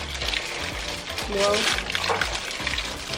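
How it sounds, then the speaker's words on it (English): Water from a rinsed tomato tin, about 400 ml, poured into a slow cooker for a family meal, a close splashing pour that swells midway, heard under music and talk. "I'm also going to rinse out the tomato tin with water, so about another 400 ml of water."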